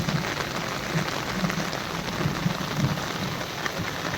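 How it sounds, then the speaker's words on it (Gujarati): Heavy rain pouring down on a farm in Gujarat, India, a dense continuous hiss of drops striking surfaces nearby, with no voices. "ચાલુ વરસાદમાં વિડીયો"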